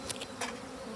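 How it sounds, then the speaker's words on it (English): Agitated honeybees buzz densely and close during a hive opening, a continuous hum with sharper passes from individual bees. "A lot of hot bees, smokers on the edge"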